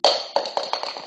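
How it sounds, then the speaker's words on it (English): Objects knocked down by a cat, about six sharp clattering taps that come close together and grow gradually fainter over about a second, with no voices. "that was my cat knocking stuff down"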